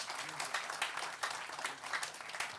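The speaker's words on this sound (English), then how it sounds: "I think he deserves another round of applause." Audience applause at a closing gong ceremony, a dense steady patter of many hands clapping throughout, fairly faint and distant in a large room.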